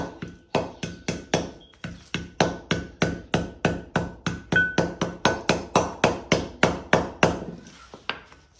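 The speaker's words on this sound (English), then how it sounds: "Maybe I can tap it a little bit and it won't come off" Metal part of a Ford Ranger lift kit being hammered into place, about twenty sharp, evenly spaced knocks in a quick steady rhythm, loud and close, with no talking.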